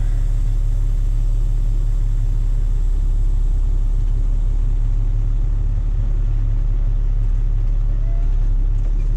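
A dump truck pulls forward slowly, its engine a loud, steady, deep rumble that fills the whole stretch close to the microphone, with no voices over it.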